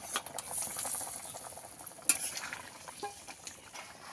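A pot of fish curry broth burbles softly while a utensil stirs it, faint clinks and scrapes against the metal rising and falling over low bubbling, with one sharper knock midway.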